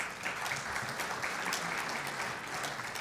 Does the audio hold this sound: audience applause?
yes